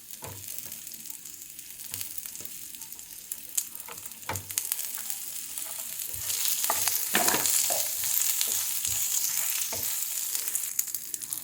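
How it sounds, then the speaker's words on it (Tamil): Chow chow (chayote) peel frying in a pan with urad dal, cumin and tamarind: a steady broadband sizzle that swells louder partway through, with scattered scraping stirs and clicks of the spoon, no talking. "உளுந்துடைய கலர் கொஞ்சம் மாறின உடனே நமக்கு இந்த சௌசௌவுடைய தோல் போடுறேன்"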